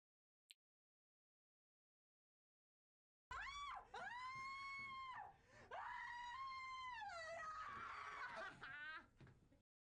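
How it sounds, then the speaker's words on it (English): A woman screams repeatedly during an escape room scare, long rising and falling shrieks broken by short gasps and whimpers, loud and close after a quiet opening. "And she was overdoing it with the screaming"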